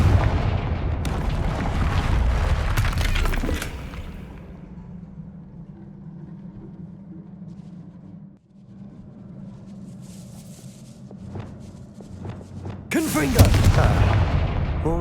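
Fire-blast spells in the Hogwarts Legacy video game go off as heavy booming bursts, one at the start and another near the end, with a crackling blast tail and a quieter ambient stretch in between.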